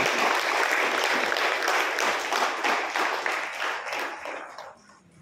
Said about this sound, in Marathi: त्यांचं सुद्धा जोरदार टाळ्या वाजवून स्वागत करूया